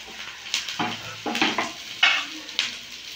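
A spatula stirs semolina pulao ingredients, chopped onion and raisins, frying in a pan, with several quick scraping strokes over a soft, quiet sizzle.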